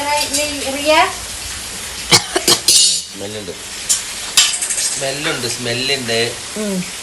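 A large pot of biryani is opened and stirred, with sharp metallic clanks and scrapes of a ladle against the pot between bursts of close talking.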